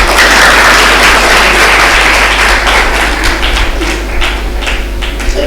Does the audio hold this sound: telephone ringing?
no